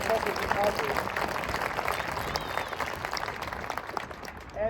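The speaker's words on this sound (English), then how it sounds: "So a round of applause for Professor Ukazu." Audience applause for a professor at a university family and friends performance event, a crowd clapping steadily for several seconds with voices mixed in under it.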